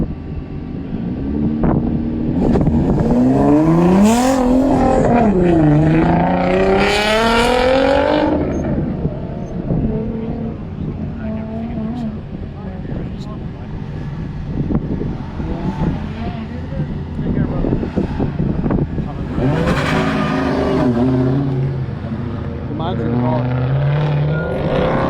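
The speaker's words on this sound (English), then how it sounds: "David Carr taking off in the SRT" A Dodge SRT race car launches off the line at an autocross held at Grissom AFB in 2021. Its engine climbs through rising revs and shifts, then surges again later, all under a steady commentator's voice and outdoor wind.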